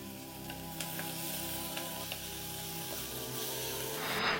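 Onions, green chillies and ginger garlic paste sizzle in a pan for Kakinada-style chicken fry biryani, a continuous close hiss with a few small pops, rising slightly at the end, no voices.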